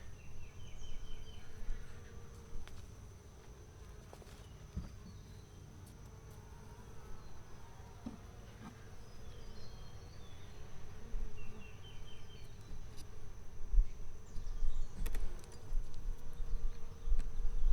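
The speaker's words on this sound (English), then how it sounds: "Bees on the lid again." Faint bee buzzing around hives in a woodland apiary drifts steadily against a low background hum, with a few brief louder passes as bees fly close.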